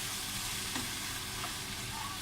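Hawaiian pizza pasta bake sizzles loudly and evenly in a hot pan while it is stirred, with a constant close crackle throughout.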